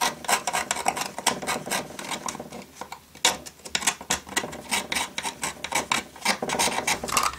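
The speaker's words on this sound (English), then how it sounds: "I should just with a screwdriver be able to flake it all off" A screwdriver scrapes and flakes heavy battery corrosion off the contacts of a vintage toy ship, giving a dense run of close, rasping scratches in quick irregular strokes with a short pause midway.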